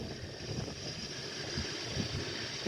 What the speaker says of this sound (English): It's gusting now.